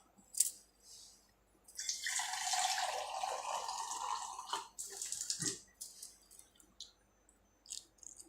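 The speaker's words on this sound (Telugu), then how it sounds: "కాసినన్ని నీళ్ళు పోసుకొని కలిపేసుకుందాం" Water poured into a thick homemade food mixture and stirred in, a close splashing, sloshing burst lasting a few seconds followed by softer mixing noises and drips.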